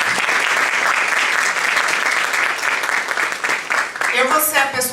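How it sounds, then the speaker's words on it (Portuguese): Seminar audience giving a round of applause as speakers are invited forward, loud sustained clapping that fades near the end as a voice begins talking. "Uma salva de palmas."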